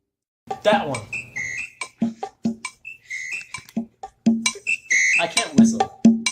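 A person whistling in short, choppy chirps and wavering notes, amateurish and broken, mixed with bursts of talking and laughter close to the microphone.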